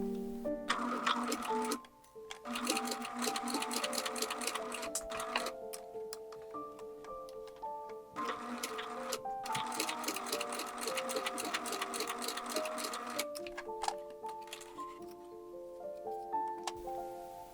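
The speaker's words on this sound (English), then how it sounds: "sew 2 lines of decorative stitching" Sewing machine stitching two decorative lines along the top of a doll's overall bib, in steady close runs of rapid ticking stitches separated by brief pauses, with no talking.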